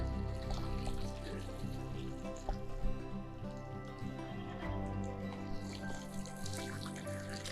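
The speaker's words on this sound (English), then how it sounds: "I think this is just water in the line." Faint, steady trickling and dripping of water running through an off-grid water system line, low and continuous under a soft background murmur.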